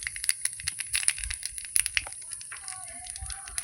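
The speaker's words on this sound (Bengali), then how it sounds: "এবার এই তেলের মধ্যে আমি কালো জিরে ফোড়ন দেব" Nigella seeds hit hot oil left from frying fish in a home kitchen, bursting into quick, sharp crackles and pops up close that settle into a lighter sizzle.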